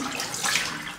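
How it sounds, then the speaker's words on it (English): Running water from a tap rinses a Baby Futur razor, a brief steady hiss and splash heard close up. "Right, let me rinse."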